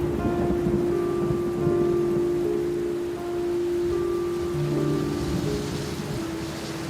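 Steady heavy rain hisses throughout a rainy night scene in a horror cartoon, with a low rumble of thunder beneath it and a faint sustained musical drone layered over the downpour; no one speaks.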